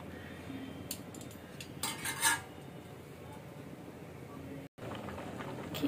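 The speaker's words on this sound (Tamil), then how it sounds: "இத லேசா கிண்டி விடுங்க. இது கொஞ்ச நேரம் வேகட்டும்." A spoon scrapes and clinks against a cooking pot while ponnaganni spinach greens are stirred: a few light metallic taps and scrapes over a steady low simmer, with a short cut near the end.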